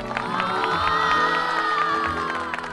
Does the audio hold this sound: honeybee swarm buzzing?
no